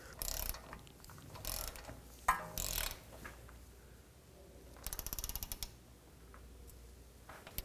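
Ratchet-style torque wrench clicking on the lower control arm bolt of a 2005-2010 Pontiac G6, with a quick burst of rapid clicks and some mechanical clanks and creaks, close and fairly faint.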